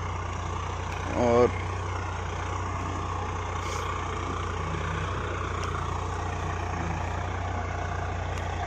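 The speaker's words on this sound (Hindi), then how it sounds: "तो फिर आया है ट्रैक्टर" A tractor engine idles and runs steadily in a farm field, a continuous low rumble throughout with a brief louder burst near the start, while someone talks over it.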